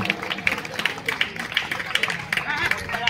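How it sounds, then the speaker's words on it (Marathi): An audience claps for a player at a local kabaddi match, a steady patter of many hands going on and on beneath a commentator talking over the crowd. "मित्रांनो विनायकसाठी आपण टाळ्या वाजवून शुभेच्छा देऊया"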